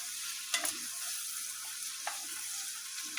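Chopped purple onion stirred in melting butter in a pan, a soft continuous sizzle with a few spoon clicks and scrapes against the pan.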